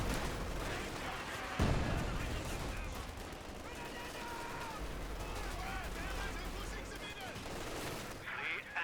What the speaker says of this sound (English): Barrage is coming on in. Looks like he's just sort of hitting right around here.